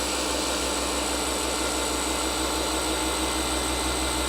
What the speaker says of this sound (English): I'm letting the polisher do the work.